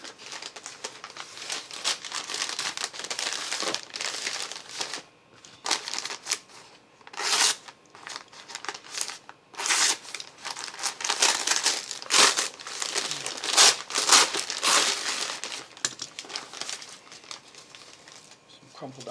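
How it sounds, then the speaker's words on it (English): Crumpled packing paper from a delivered package crinkles and rustles in bursts of handling, loud and close, with short pauses in between and a voice speaking in places. "Some crumpled up paper."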